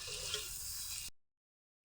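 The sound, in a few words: broiler chicken meat frying with browned onions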